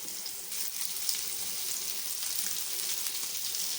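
Surmai (kingfish) pieces fry crisp on a low flame, giving an even, close, steady sizzle with a gentle crackle throughout and no voices.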